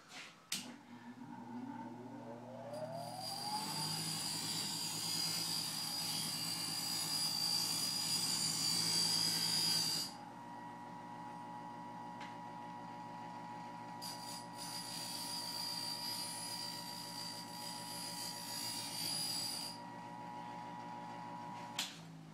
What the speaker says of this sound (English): I'm going to run this along a bench grinder to get more rounded cylindrical edge.